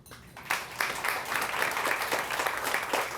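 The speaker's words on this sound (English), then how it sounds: "Let's give a round of applause, please, again to our panelists, Sarah, Mary Jo, and Indira." Audience at a women's alumni network launch event applauding panelists, a steady, moderately distant wash of clapping with no talk over it.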